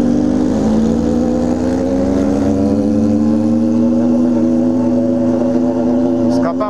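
A Yamaha XJ motorcycle with a modified exhaust holds a loud, steady, droning rev close by, its pitch slowly rising throughout, with no talk over it.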